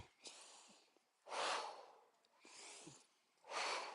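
Slow, deep breaths during gentle tai chi practice, with several broad airy exhales and inhales in a steady rhythm, close and fairly soft, no talking.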